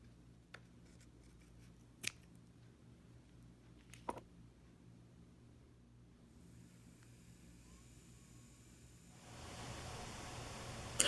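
Scissors trim worn sandpaper on a carving mandrel bit, giving a few faint, isolated snips in a quiet room before a rising background hiss.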